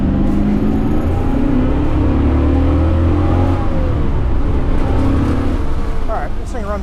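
A 1969 Ford Mustang Boss 9 engine revs up under load, a loud steady low rumble that rises gently as the car accelerates, close to the microphone throughout.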